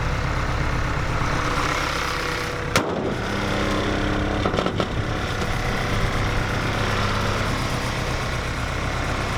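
A Honda Civic engine runs at a steady idle just after starting, a loud continuous low rumble broken by a sharp thump and a few brief knocks partway through.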